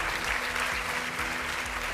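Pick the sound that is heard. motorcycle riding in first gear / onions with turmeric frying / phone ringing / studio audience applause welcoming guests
studio audience applause welcoming guests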